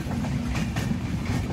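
Steady rumble and rattle from inside an LHB passenger coach of the Madhumati Express speeding along the track in rain, moderately loud and unbroken, no voices.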